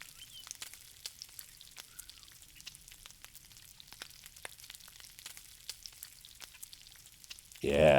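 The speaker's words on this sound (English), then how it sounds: "That's a sear, ladies and gentlemen." Thin skirt steak searing in a hot pan gives a soft, crackling sizzle with scattered pops, then a loud burst of sizzle flares up at the very end.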